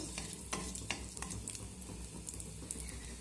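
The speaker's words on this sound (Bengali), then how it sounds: "5 ফোড়নটা দিয়ে আমি একটু নেড়ে চেড়ে ভেজে নেব" Panch phoron spices sizzling in hot mustard oil, stirred with a utensil; steady crackling fry with scattered scraping clicks, close and continuous, no voices.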